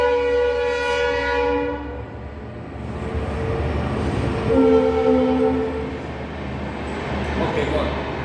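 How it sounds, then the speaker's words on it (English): A train rumbles past nearby with a loud, steady roar, while its horn sounds in two long blasts, one early and one in the middle, and a voice is heard partly under the noise. "Let the train go first."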